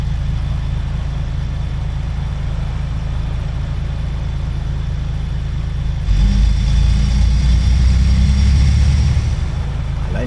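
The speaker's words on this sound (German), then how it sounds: "Allein der Sound vom Bus." A double-decker bus idling in The Bus, driving through Berlin, a loud steady low engine rumble that deepens and grows heavier partway through, with no talk.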